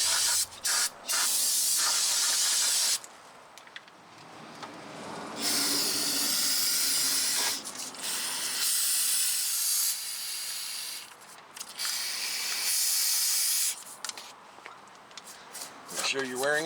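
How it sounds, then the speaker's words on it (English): Aerosol brake cleaner hisses onto the front brake caliper pistons of a rusty, salt-belt 2014 Ford F-150: several long, loud, close spray bursts, with someone talking in the gaps between them. "Let's get this sprayed down and cleaned off before we push the pistons back in."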